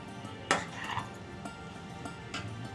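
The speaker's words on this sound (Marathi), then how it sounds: "याच्यामध्ये मी 5 अंडी किसून टाकलेत। आता चांगला मिक्स करून घेऊ।" Grated boiled eggs are mixed in a pan, with a spoon giving soft scraping strokes and an occasional light clink against the metal, quiet and close.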